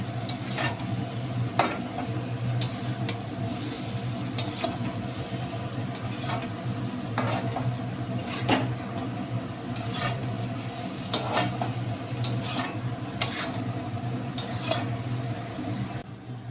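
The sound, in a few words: stirring and frying spices with potatoes for prawn curry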